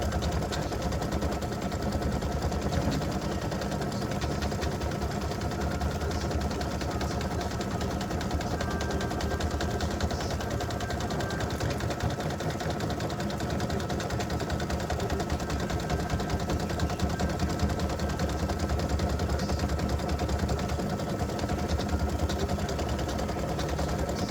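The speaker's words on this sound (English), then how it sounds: "it's going to go around and do the satin stitching around it" Embroidery machine satin stitching around a ribbon earring design, a fast continuous mechanical buzz and rapid needle chatter, steady and close throughout with no speech.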